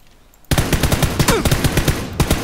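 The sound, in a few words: gunfire in the video game PUBG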